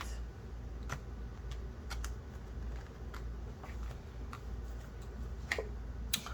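A deck of oracle cards is shuffled and cut by hand, giving soft, irregular card clicks and taps close by over a low steady room rumble, with no talk.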